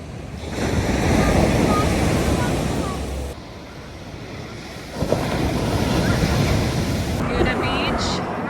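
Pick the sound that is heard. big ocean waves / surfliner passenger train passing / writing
big ocean waves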